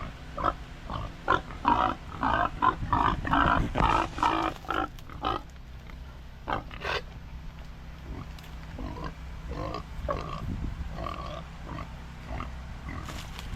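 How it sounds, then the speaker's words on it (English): Pigs on a farm along a fall backroad grunt and snort in a rapid burst of close grunts, then sporadic quieter grunts over a low steady background. "we came and said hello to the pigs"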